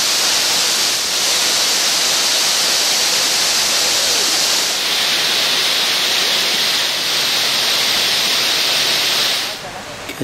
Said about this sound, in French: De haut en bas, ben c'est une belle cascade.